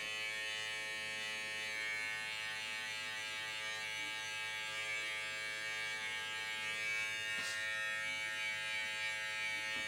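Electric hair clippers blending a home haircut, a steady mid-pitched buzz running continuously at moderate level with slight variations as the blades move through the hair.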